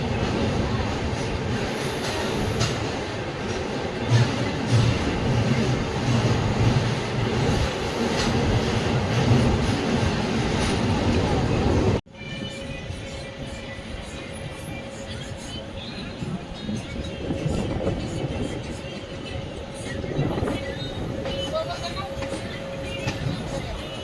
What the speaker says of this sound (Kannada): ನಮ್ಮ ಟ್ರೈನ್ ಬಂದೈತ್ರಿ ಈಗ ಯಾದಗಿರಿಗೆ